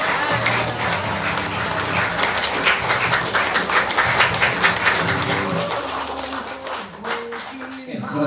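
A seminar audience applauds a young speaker, a loud sustained round of many hands clapping, with someone talking over it and the applause thinning toward the end.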